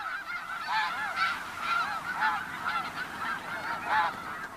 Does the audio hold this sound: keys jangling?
no